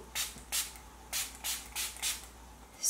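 Setting spray from a cosmetics bottle with a gold top misted onto a face in quick bursts, about seven short airy hisses at an uneven rhythm, close and fairly soft, with no talking.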